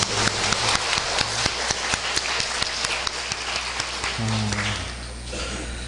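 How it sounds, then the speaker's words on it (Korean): Congregation at a Korean church service applauding, dense clapping that sounds rain-like over a low steady hum, tapering off toward the end. "하나님께 영광의 박수를 드리겠습니다"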